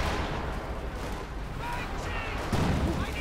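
Battle gunfire and impact hits from the World War II strategy game Company of Heroes 2 rumble under a commentator's talk, with a heavier thump near the end over steady low battlefield noise.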